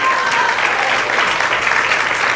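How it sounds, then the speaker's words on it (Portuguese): A church congregation applauds during an evening service, a loud, dense wash of many hands clapping steadily and evenly from start to finish. "Quem pode aplaudir a Jesus nessa noite?"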